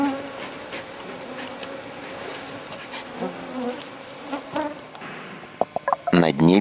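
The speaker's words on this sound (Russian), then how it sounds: "природный инстинкт о продолжении рода заставляют комаров гоняться за нами" A swarm of mosquitoes whines and buzzes outdoors in Western Siberia, several insects passing close with shifting pitch, ending in a few sharp, loud handling noises.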